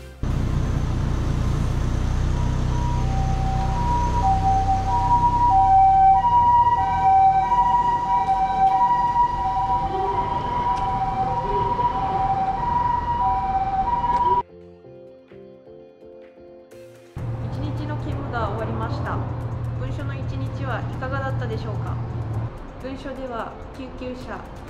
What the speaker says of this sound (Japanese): 救急車、タンク車の出動